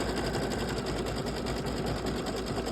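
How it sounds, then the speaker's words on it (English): An Aveneer sewing machine stitches a satin stitch in green thread with a steady, fast, whirring mechanical rattle, close and even throughout, with no talking. "So it's going to stitch the satin stitch now."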